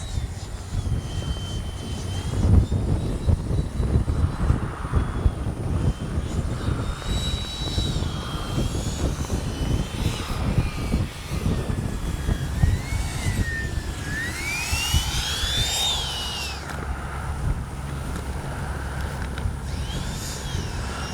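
A Freewing 90mm F-22 RC jet flying fast passes, its ducted-fan whine rising and falling in pitch as it sweeps near and away, loud and continuous with wind and background noise.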